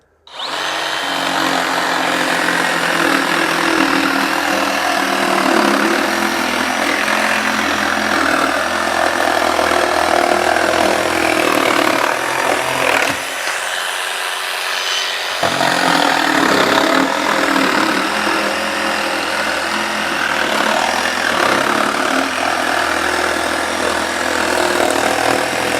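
Festool and Ryobi barrel grip jigsaws cutting wood, a loud continuous motor whine with the blade buzzing through the board for about 25 seconds, briefly dipping near the middle as one cut ends and the next begins.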